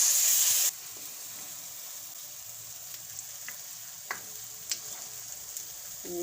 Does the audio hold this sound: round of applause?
no